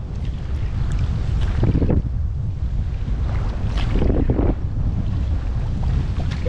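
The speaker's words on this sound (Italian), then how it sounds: "parecchio vento" Heavy wind buffeting the microphone while kayaking on the river under a bridge at Fiastra, with constant low rumble and gusty bursts, steady and loud throughout.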